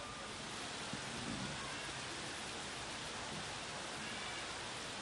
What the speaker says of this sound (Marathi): मान्सून सरींनी ठाणा चिंब झालंय।